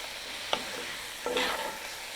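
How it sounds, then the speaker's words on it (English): Bacon being stirred in a Dutch oven, two soft scraping strokes over a steady background sizzle of frying fat, close and fairly quiet, no voices. "Give it a good mix."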